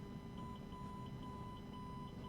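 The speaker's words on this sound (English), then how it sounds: "My mom's alarm went off that she doesn't know how to use." An alarm clock going off in a home, a faint repeating electronic beep with a steady tone underneath, heard over low room noise.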